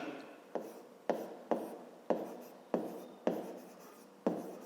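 A pen or pencil writes by hand on paper, giving a series of about eight quick scratchy strokes at a steady rhythm, close and quiet.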